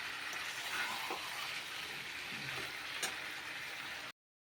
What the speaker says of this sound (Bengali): মাংসটা কষানো হয়ে গেছে দেখো তেল ছেড়ে দিয়েছে